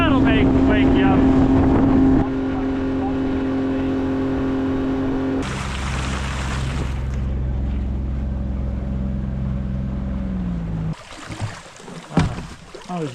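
A motorboat out on the water in February, its engine droning loud and steady with a strong tonal hum that shifts pitch midway, then cuts off near the end, leaving wind and light water sounds.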